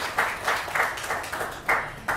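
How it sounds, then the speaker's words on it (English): A worship congregation claps for volunteers, a thin, scattered patter of hands with a few sharper bursts over about two seconds, fairly soft and with no talking. "let's give a round of applause to say thank you to everyone who has worked or volunteered"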